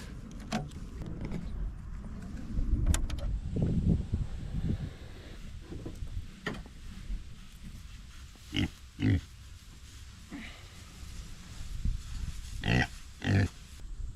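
Pigs on a farm grunt and oink in short bursts, scattered across the clip at moderate distance over low background noise.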